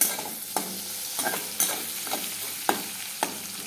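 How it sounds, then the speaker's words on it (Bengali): Puffed rice (muri) fries in hot oil in a pan, a soft close sizzle broken by sharp stirring scrapes and clinks every half second or so, no voices. "এই শুকনো তেলের মধ্যে মুড়িটাকে ভেজে নেওয়া আর কিছুই না"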